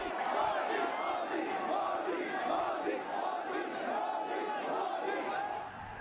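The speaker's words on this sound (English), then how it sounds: "Restive crowds rooted for Narendra Modi." A large restive crowd at a Narendra Modi political rally, a continuous roar of many voices cheering and shouting, fairly distant and steady throughout.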